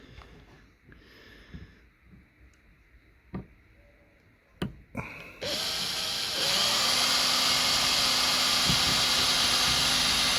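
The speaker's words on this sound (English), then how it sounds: "So put the drill in your drill bit," A power drill starts up after a few quiet clicks and handling noises, then runs at a steady, loud whine while boring a hole in a car's roof lining during a rear dash camera installation.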